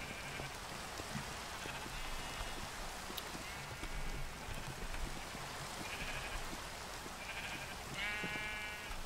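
Sheep in Minecraft let out several short bleats at intervals over a steady rain-like hiss, faint and at mid distance, with a little talk.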